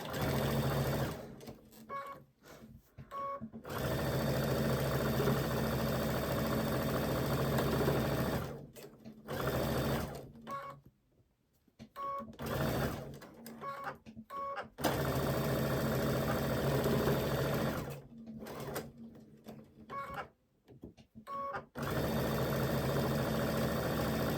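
A sewing machine runs in long continuous bursts while stitching a quarter-inch seam on a quilted Christmas wall hanging, with short pauses and quieter gaps between runs.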